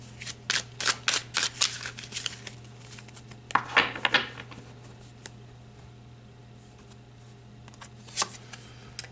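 Tarot cards shuffled by hand at close range: a quick run of crisp riffling bursts over the first few seconds, a louder flurry around the fourth second, then a quiet stretch with one last soft snap near the end. No voices.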